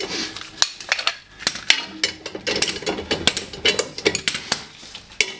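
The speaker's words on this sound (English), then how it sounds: "And then grab the torque wrench" A torque wrench with an extension ratchets on a bolt under a Toyota GT86 in a cramped space: bursts of sharp metallic clicks in an uneven rhythm, close and clear, with no talking.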